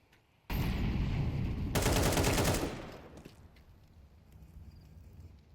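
Loud, dense gunfire erupts in a Counter-Strike match, two sustained bursts back to back, then fades into quieter game ambience.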